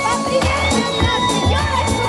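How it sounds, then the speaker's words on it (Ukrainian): Outdoor crowd at a city Christmas tree lighting on St. Nicholas Day, loud dense cheering with shouts and children's voices, close and continuous. "Давайте дружними аплодисментами!"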